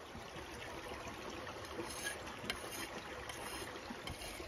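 Creek water flows steadily where gold panning is underway, a continuous broadband rush and trickle with faint splashy accents, close and even throughout, no voices.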